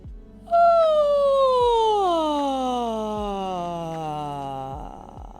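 A voice imitates a siren: one long sustained tone sliding slowly downward in pitch for several seconds, loud and alone.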